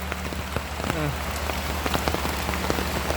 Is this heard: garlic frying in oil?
no